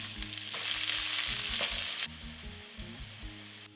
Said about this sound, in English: Into the pan, add the whole spices. Let them toast just so slightly.